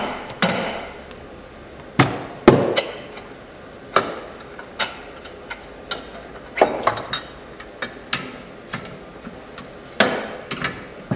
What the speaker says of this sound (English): We'll have to just hit it on the edge of the rim with a rubber mallet.